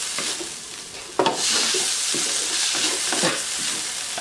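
Lechon sisig fries with oyster sauce in a pan, a steady close sizzle and hiss broken by scraping stirs at a roughly regular pace.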